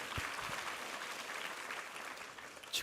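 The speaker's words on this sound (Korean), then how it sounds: "우리 하나님께 감사와 영광의 박수 올려드리겠습니다." Congregation applauding during a Sunday church service, a steady wash of clapping from many hands filling the room for the whole stretch, ending with a brief louder burst.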